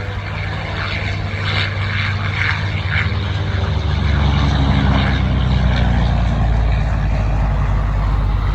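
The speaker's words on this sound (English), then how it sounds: "Here comes Mark with the Corsair" A Vought F4U Corsair warbird with a Pratt & Whitney radial engine flies past at an airshow at Willow Run Airport, a loud steady propeller roar that swells and deepens as it passes close overhead.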